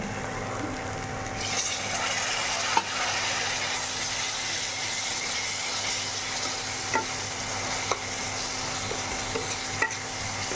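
Spices with coriander powder and a splash of water are sautéed in a pan, giving a steady low sizzle with occasional sharp taps and scrapes of a spoon stirring, close and quiet, no talking.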